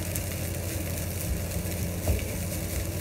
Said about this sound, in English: Continue cooking and stir a little bit like that. And then together you have to put the fish.